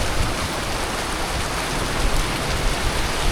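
Steady, close rain pours down during a storm in New Zealand, a dense continuous hiss of drops striking surfaces with no voices.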